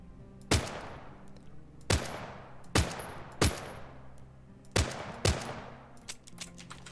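Six sharp, separate gunshots from a rifle with a 7-round magazine in the survival game The Front, evenly spaced with ringing tails, loud and close with a quiet outdoor background.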